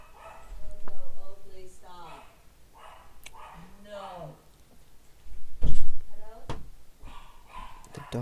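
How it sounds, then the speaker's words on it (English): Dogs barking in short bursts at moderate distance, mixed in with ongoing talk and a few sharp knocks. "Dogs are indeed barking."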